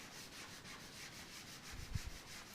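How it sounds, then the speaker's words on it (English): Oil is rubbed by hand into oil pull-up leather, giving a soft, steady, faint rubbing hiss that carries on with no talk. "So now we're going to work on using just the oil. And we're going to rub it in."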